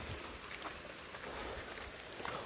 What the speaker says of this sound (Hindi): थोड़ा सा बारिश बढ़ती हुई